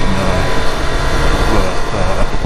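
Triumph Street Triple 765 RS motorcycle engine on the move, a loud, steady, dense roar with constant rumble and wind, close up and unbroken.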